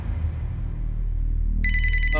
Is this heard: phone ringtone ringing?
yes